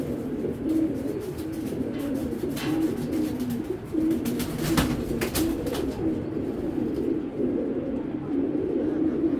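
A young racer pigeon coos among other caged pigeons, low throaty calls repeating steadily over a dense background of clatter and scattered sharp knocks.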